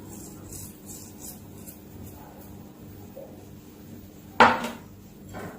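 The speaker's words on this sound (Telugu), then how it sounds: "మళ్ళీ ఒకసారి గరిటెతో మనము అందాన్ని మొత్తం కలుపుకుందాం" Ladle stirring foxtail millet curd rice in a pot: faint soft scraping, then one sharp knock of the ladle against the vessel near the end, close and otherwise quiet.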